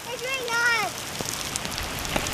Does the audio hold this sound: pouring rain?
yes